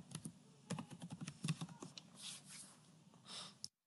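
Fingers type on a computer keyboard in quick, uneven bursts of soft clicks, faint and close, with no talking.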